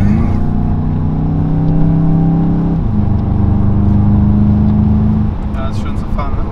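VW Golf 8 GTI on a country road, a loud steady engine drone that shifts pitch as it accelerates through gears, heard from inside the cabin with people talking over it.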